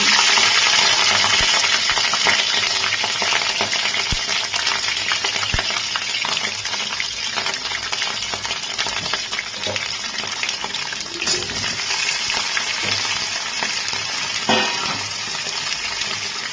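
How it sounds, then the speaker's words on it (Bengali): Potatoes and cauliflower fry together in spiced oil, a loud, continuous dense sizzle broken by stirring scrapes and clinks that runs throughout. "আলু আর ফুলকপিটাকে আমি আলাদা করে আর ভাজবো না এটাকে একই সাথে আমি ভালো করে ভেজে নেব"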